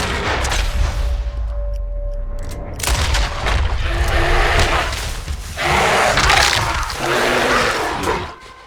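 In Red Dead Redemption 2, shots are fired at an attacking bear, giving loud, heavy booming gunfire with rolling echoes and rumble that continue through most of the stretch.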